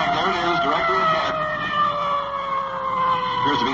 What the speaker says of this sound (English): There goes our siren for the intersection.